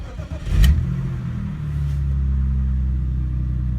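A 1988 BMW M3 cold-starts at about 20°F, with a sharp crank-and-catch burst followed by a steady, loud, close idle rumble that holds to the end.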